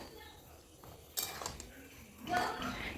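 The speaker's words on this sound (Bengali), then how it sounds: "বড়িগুলো দিয়ে খুব ভালো করে সবজির সাথে এইভাবে একটু মিশিয়ে দিতে হবে" Spoon scraping and clinking in a pan as fried lentil dumplings (bori) are mixed into vegetables with drumsticks, two bursts of metallic stirring, quiet and close, with faint voices in the background.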